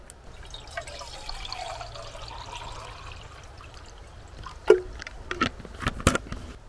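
About 500 ml of water pours into a pot on a camping safety burner with a soft, faint trickle, followed by a few close clinks and taps of metal.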